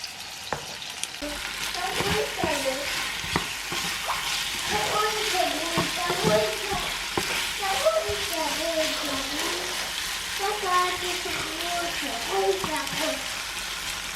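Filet mignon and gnocchi frying for dinner in a home kitchen, a steady close sizzle with scattered pops and stirring clatter, while a person talks over it throughout.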